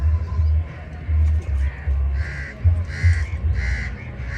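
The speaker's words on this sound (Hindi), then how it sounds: "अंदर कौवे भी आके नहा रहे हैं, कबूतर भी हैं" Several crows caw repeatedly in short harsh bursts, fairly close, at a zoo in Karachi, over a low rumbling background hum.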